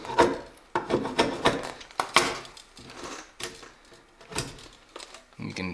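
A draw knife scoops shavings from an Osage orange longbow stave, producing a series of rough, scraping strokes in an irregular rhythm, close and fairly loud, with brief pauses between pulls.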